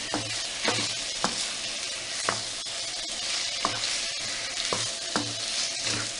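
Chicken being stirred with chili powder and turmeric in a pan for North Indian achari chicken, a steady sizzle broken by repeated sharp scraping strokes of the spoon, close and fairly loud with no talking.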